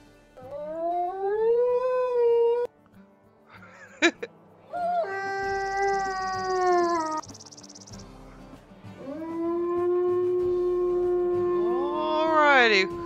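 Wolf howls from the WolfQuest video game ring out as several long, rising and falling tones, one after another, with a background of insect-like chirping between them.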